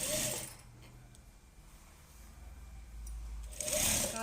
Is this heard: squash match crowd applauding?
no